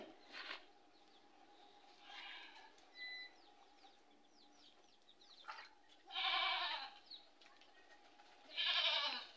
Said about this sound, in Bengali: চলুন আমাদের ছাগলটা আপনাদেরকে একটু দেখাই